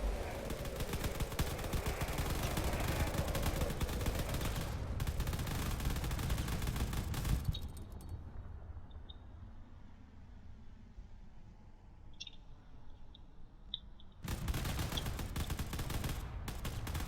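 Battleship cannons fire in a video game naval battle, with dense, continuous rumbling bursts of gunfire that stop abruptly for a quieter stretch with faint pops, then start again at full strength.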